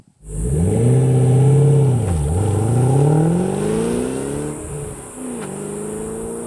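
A 2008 Shelby GT500 Convertible engine hums steadily from inside the cabin, pitch rising and dipping as it shifts gears and accelerates, loud and continuous.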